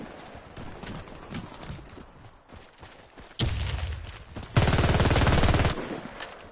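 A fast-firing gun shooting in the video game Warface, rapid rattling bursts, with one long dense stream of shots near the end, loud and close over scattered game noise.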